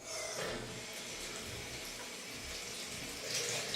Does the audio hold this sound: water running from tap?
yes